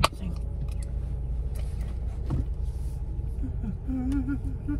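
Car interior while driving, a steady low road and engine rumble filling the cabin, with a brief clunk near the start and a faint squeak late on, no speech over it.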